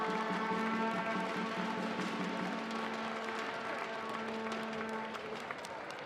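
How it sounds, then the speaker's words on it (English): A crowd applauds the Garden City Fighting Gophers at the 2016 MHSAA Boys Basketball Championship presentation. Broad clapping fills a large gym, with sustained tonal music or buzzing under it and a slight fade toward the end. "One more round of applause, please, for our finalists"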